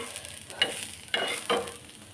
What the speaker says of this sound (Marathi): इकडं शिजते बघा मटन.